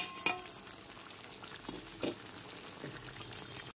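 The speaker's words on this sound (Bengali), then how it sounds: "ঢাকনাটা খুলে নেওয়ার পর ওপর থেকে নিচে একটু খুব ভালো মতো মিশিয়ে নিলাম" Pointed gourd curry being stirred in a pot after the lid comes off, with soft sizzling and a few spoon scrapes against the pan, quiet and close.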